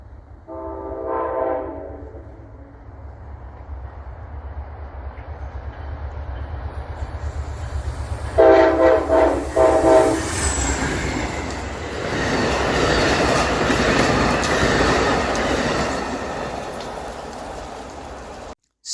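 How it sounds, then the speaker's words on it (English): Amtrak Locomotive 100, the Midnight Blue Heritage Unit, leads the Capital Limited past, sounding two horn blasts, a short one and then a longer one, over a steady rumble that swells into a loud rushing roar of passing cars. "This time, it was Amtrak Locomotive 100, which was the Midnight Blue Heritage Unit."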